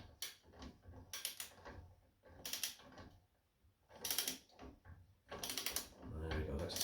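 Ratchet wrench tightening an exhaust fitting on a Royal Alloy GT125 scooter, short bursts of quick clicking repeated five times with pauses between, close and fairly quiet.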